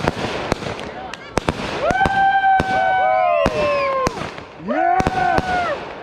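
Fireworks burst at a July 4th Independence Day celebration in 2021: sharp, close bangs and crackling pops come in quick succession, mixed with rising whistling tones, while people nearby shout and cheer.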